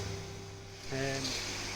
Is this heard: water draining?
yes